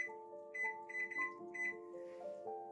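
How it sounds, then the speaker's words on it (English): Quiet electronic beeps sound in a quick, uneven series as a kitchen timer is set, over faint tonal ringing. "Now we're going to set our timer for 30 minutes."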